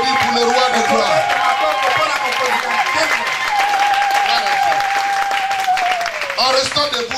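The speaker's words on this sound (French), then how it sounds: "Est-ce que tu peux applaudir pour le roi de gloire?" A church congregation claps and cheers in praise, a dense sustained applause running throughout, with singing or voices carrying over it.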